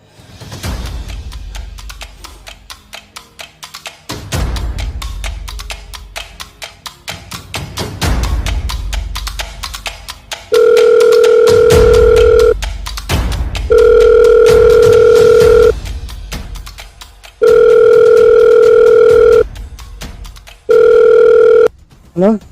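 Voices talk first, then a telephone call's ringback tone repeats in four long, loud, steady beeps separated by short pauses.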